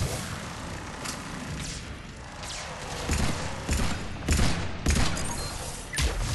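Paladin pistol shots from Mass Effect 3, fired in a firefight against armored enemies with incendiary ammo: a string of sharp separate cracks, heavier toward the end, set over constant battle noise.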